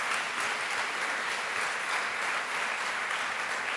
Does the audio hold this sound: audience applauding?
yes